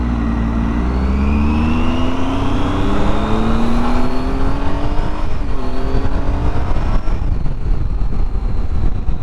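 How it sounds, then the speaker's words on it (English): A Triumph Tiger 800 triple-cylinder motorcycle engine revs steadily upward, its pitch climbing through the gears, loud and close, with a brief dip before rising again. "this has got the triple engine in it"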